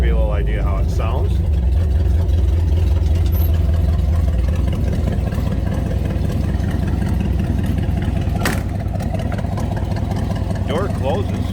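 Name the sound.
vintage pickup truck engine idling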